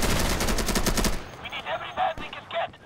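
Gunfire from the video game Insurgency, with a sniper rifle in use, starts as a rapid rattling burst, then gives way to a few scattered, sharper single shots with quieter gaps between them.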